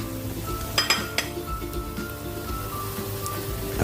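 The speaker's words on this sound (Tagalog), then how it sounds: "Lagyan naman natin yung ating sayote sa chicken tinola." Chayote pieces dropping into a pot of chicken tinola, a few sharp clinks and knocks against the pot early on over a steady simmering hiss.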